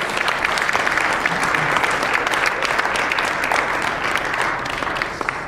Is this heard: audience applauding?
yes